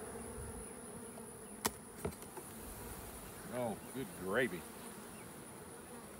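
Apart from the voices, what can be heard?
bees buzzing in a hive box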